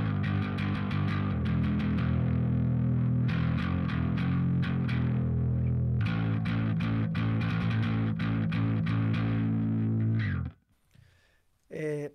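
Electric bass played through a distortion pedal whose distortion channel is failing, sounding loud and steady with sustained notes and rhythmic attacks for about ten seconds, then cutting to near silence before a brief final burst.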